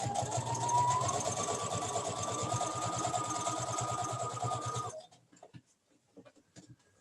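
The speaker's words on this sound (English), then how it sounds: "I'm going to come in a few stitches and then I'm going to reverse." A sewing machine stitches a fabric hood in a steady, loud rapid run for about five seconds, then stops abruptly, leaving near silence with a few faint clicks.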